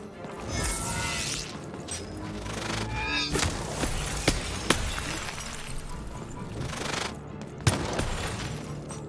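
Gunfire in the Lost in Random video game, a dense rattling barrage of shots with sharp cracks and smashing impacts over a busy game soundscape, loud and sustained, with a few sharper isolated bangs.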